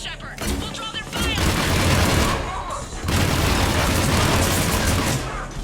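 Gunfire rattles in dense, continuous bursts during a Mass Effect 3 firefight, loud and close, with a short lull in the middle and voices shouting over the shooting.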